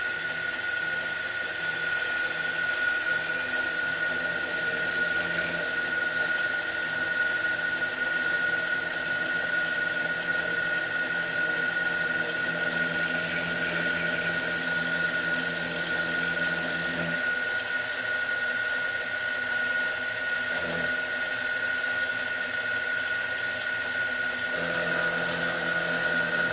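Small micro mill with a new spindle motor on a C-clamp-held mount, milling at a 400 mm feed rate with a 1 mm step-over: a steady, continuous high-pitched whine with a faint mechanical drone, unbroken for the whole stretch.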